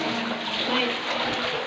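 Gently flowing river water inside a cave, a steady close wash with echoing trickles, continuous and unbroken.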